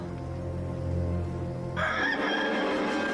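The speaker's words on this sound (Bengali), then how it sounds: "আর তখনই মোরগের ডাক শোনা গেল।" A rooster crows loudly and close by, one long drawn-out cock-a-doodle-doo that rises sharply in brightness partway through and carries on to the end, with no talk over it.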